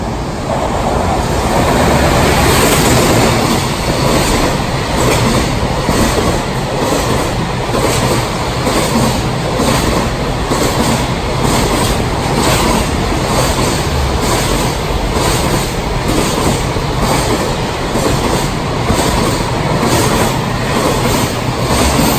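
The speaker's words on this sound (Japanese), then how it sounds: "今から、通過する1050番貨物列車をね、撮影します" Freight train number 1050 passes through Hamamatsu station in Japan with a loud, continuous rumble and a steady rhythmic clatter of wagons that lasts throughout.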